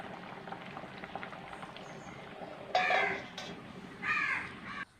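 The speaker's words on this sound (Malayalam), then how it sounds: "നമ്മുടെ മീൻ കറി ഇവിടെ തിളച്ചൊരു വിധമായി വന്നിട്ടുണ്ട്" A Kerala-style tuna curry with ground coconut and mango bubbles quietly in a pot, a faint steady simmer under two loud, near crow caws.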